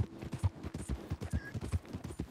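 Rhythmic hoofbeats of a horse at a steady trot in Red Dead Redemption 2, a muffled clip-clop repeating evenly with no talking.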